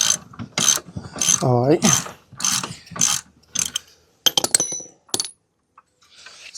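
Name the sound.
wrench loosening a bolt on a CFMoto 450SS motorcycle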